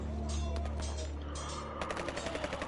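Cannon fire in a war scene of the video game Caligo: a burst of booming shots followed by a rapid run of sharp, evenly spaced reports, with no voice over them.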